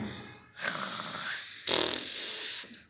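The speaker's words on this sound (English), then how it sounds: "It's a dog snoring." A sleeping dog snores in two long, raspy, breathy snorts, close and fairly loud, with a short quiet gap between them.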